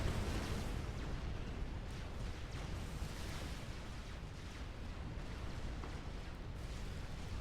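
Dense, continuous rumble of artillery fire and explosions in a Supreme Commander: Forged Alliance battle, steady and loud throughout with no clear gaps between the blasts.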